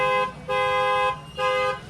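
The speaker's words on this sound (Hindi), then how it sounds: "एक बार आप सुनिए इसके साउंड किस तरीके का आपको देखने को मिल जाता है।" An upgraded horn on a modified Tata Punch honks three times, a short blast, a longer one, then another short one, loud and close with a bright multi-tone sound.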